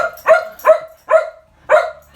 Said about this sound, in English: No barking at me to make me.